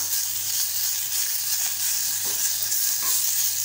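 Curry leaves and coriander sautéing in a pan for a green gram dish, giving a steady close sizzle with soft stirring scrapes throughout, no voices.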